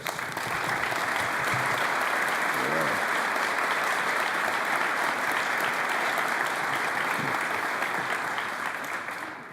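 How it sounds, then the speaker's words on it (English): An audience at a 2018 State of the University System address applauds the standing university presidents, a broad, even roar of clapping from a large hall that holds steady for the full length. "Would the presidents all stand so we can applaud them for their service?"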